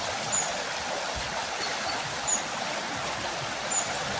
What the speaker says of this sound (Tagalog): Yung mabatong ilog. Yung talagang ilog.